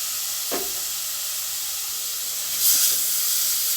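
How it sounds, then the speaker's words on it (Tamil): Large tomatoes fry in a pan for kudal gravy, giving a steady close sizzle with a hiss that swells near the end, and a faint clink of a utensil early on. "அதையும் நம்ம அது கூட சேர்த்துட்டு நல்லா வதக்கிக்கலாம்"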